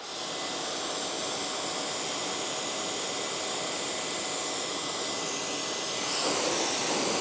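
Adams Polishes electric pressure washer, rated 1200 PSI, spraying through a 40-degree fan nozzle: a steady, loud broadband hiss that holds unbroken for several seconds and swells slightly near the end.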